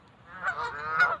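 Geese honk outdoors, a couple of nasal calls in quick succession at moderate distance.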